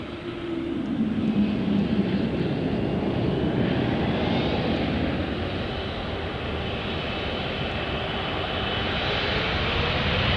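An airplane takes off from Paine Field, home of Boeing, its engines giving a loud, sustained roar that holds steady and then slowly fades over about ten seconds, with no talking.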